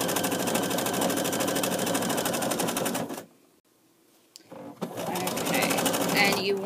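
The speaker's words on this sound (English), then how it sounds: "when you're doing decorative stitches that have some sort of satin stitch in them, which is what we're doing here" Sewing machine running decorative satin stitches with variegated thread, a fast steady mechanical hum and rattle that stops for about a second, then starts up again.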